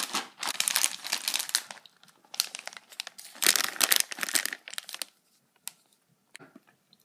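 Plastic packaging of chocolate-covered pretzels is crinkled and rustled by hand in close, uneven bursts, with pauses and a few sharp isolated crackles near the end.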